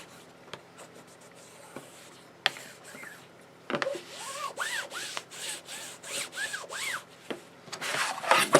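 Firm rubbing and scraping as a taped seam on a die storage folder is burnished down by hand, repeated close strokes with squeaky swells, no talking.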